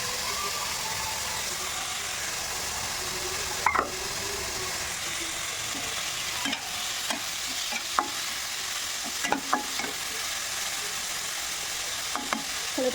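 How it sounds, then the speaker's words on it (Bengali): Potato and bitter gourd frying in a pan give a steady, close sizzle with scattered clinks of stirring utensils, and no one speaks. "তো চলো এটা আমি এখন ভাজবো"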